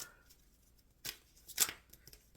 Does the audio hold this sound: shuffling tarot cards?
yes